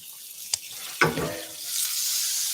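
Pancake batter with blueberries sizzling in a hot pan, a couple of sharp taps and a burst of frying hiss that settles into a steady soft sizzle, close and fairly quiet, no voices.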